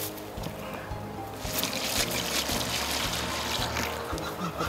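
Water poured into a horse feed bucket, a trickling, splashing pour that swells in the middle and carries on to the end, fairly close and alone.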